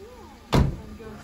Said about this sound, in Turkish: Kapat çocuğum kapıyı.